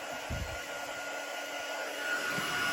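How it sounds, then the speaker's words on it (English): An electric embossing heat tool runs steadily while warming up over a card made with stamping powder, a continuous near blowing whir holding at an even level throughout with no talk. "Just warm up the heat tool a little bit."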